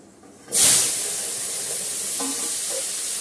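Mustard seeds tempering in hot oil for a potato chutney burst into a loud sizzling hiss that settles into a steady, continuous fry close by, with a few faint pops and no voices.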